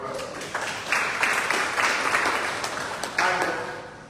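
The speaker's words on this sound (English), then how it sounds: "So give them a round of applause." Audience at an annual general meeting of a council on ageing applauding, a moderate round of clapping that swells and fades in waves over a few seconds, fairly close.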